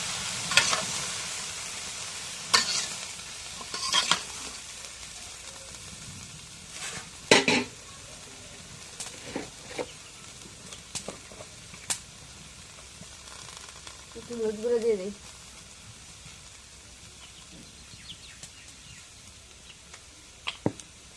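Onions, chillies and leaves frying in a pan with a steady low sizzle, broken by scattered stirring clatters and spoon scrapes against the pan, with brief quiet speech.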